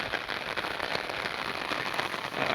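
Steady rain falling on a farm with buffaloes and a tractor out in it, a dense even patter of drops close by and continuous throughout.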